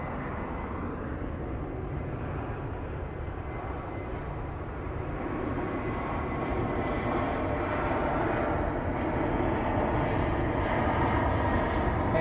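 A Delta airliner taxiing toward the departure line at Phoenix Sky Harbor International Airport, a steady broadband jet engine rumble that stays loud and continuous throughout with no talk.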